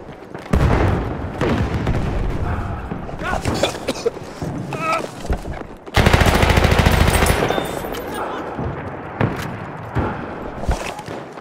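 Battlefield 1 team deathmatch combat: a thrown grenade's loud blast and sustained rapid gunfire, with bursts of shooting throughout and a dense, heavy stretch of firing and explosion midway, no voices heard.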